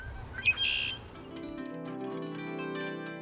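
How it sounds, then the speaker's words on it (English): A blackbird gives a couple of sharp, squawky chirps near the start, then sustained, resonant plucked-string tones ring on quietly underneath. "the call of a blackbird can attract a mate"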